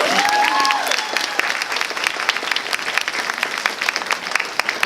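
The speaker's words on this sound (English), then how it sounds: "Give Onion a round of applause." A convention panel audience gives steady applause with many hands clapping, fairly loud and sustained. A voice speaks briefly at the very start.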